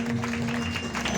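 An audience at a birthday gathering claps in a continuous wash of applause over a steady electrical hum, short and moderately loud.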